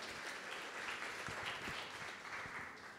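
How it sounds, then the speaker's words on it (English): Steady applause from a conference audience at a sustainability summit, moderately distant crowd clapping that continues evenly for about three seconds. "Please give them a round of applause."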